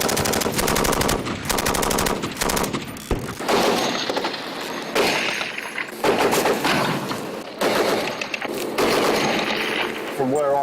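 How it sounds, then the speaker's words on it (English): Heavy gunfire exchanged on the front line in Afghanistan: rapid machine-gun bursts and repeated close, loud shots rattle almost continuously, with soldiers' voices mixed in beneath the firing. "judging by the amount of fire that we've just returned"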